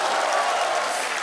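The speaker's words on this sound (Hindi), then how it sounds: "तालियां आलिया के लिए।" Dense, steady applause with crowd noise from a studio audience on a comedy talk show for Alia, a continuous wash of many hands clapping at full volume throughout.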